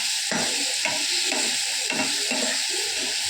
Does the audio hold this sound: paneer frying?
yes